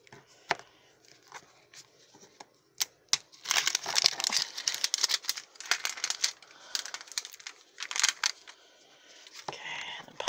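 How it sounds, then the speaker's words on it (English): A plastic tear strip is peeled off Capsule Chix capsule toy packaging, making close, steady crinkling and crackling with sharp tearing bursts that continue for several seconds. "we gotta take this tear strip off here."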